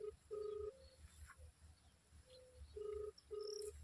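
A phone ringback tone repeats in steady double rings through the earpiece, with quiet background noise between bursts and nobody answering.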